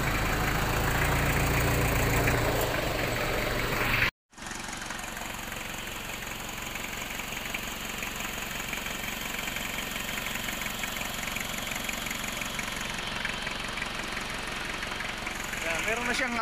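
A car engine idles steadily under the open hood, a constant mid-frequency hum running throughout after a brief dropout near the start.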